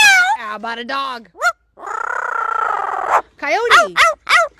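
A cat-like meowing, most likely a voice mimicking it, with several wavering, rising and falling meows and one long sustained yowl, loud and close, broken by short pauses.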